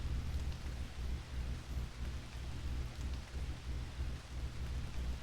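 Steady rain with low rumbling thunder in the game Ace Attorney Investigations, a continuous dense wash with rolling low-end swells, moderately loud and without speech.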